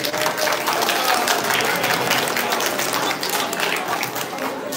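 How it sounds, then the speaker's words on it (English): A school audience at a junior high storytelling session breaks into applause after a guessing game, dense continuous clapping held at a full, even level for several seconds, easing slightly toward the end. "give them a round of applause."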